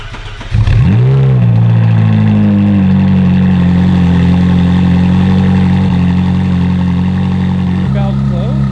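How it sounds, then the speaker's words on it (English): A Ferrari 458 with a Forza Componenti muffler-delete exhaust, valves closed, barks into life with a sharp rev before settling into a loud, steady, deep idle, close by, dipping and picking up again near the end. "this is valve closed, so quiet mode on the muffler delete exhaust"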